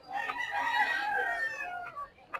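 A rooster at a chicken expo in Carbon Public Market, Cebu City, lets out one long, loud, close crow that holds for about two seconds before trailing off. A faint clatter follows, and no one speaks.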